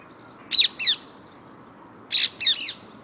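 About six to eight parakeets give harsh, screechy calls in a suburban garden, two pairs of loud squawks close by, with quiet gaps between them.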